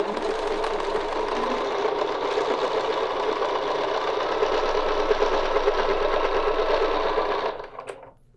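A sewing machine stitches a nested petal quilting design, running in one steady, continuous whir for about seven seconds before stopping abruptly, followed by a faint click.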